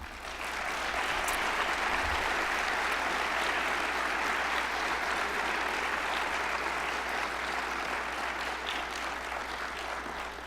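Sustained applause from a luncheon audience congratulating a 2017 media award recipient, steady and dense throughout without speech.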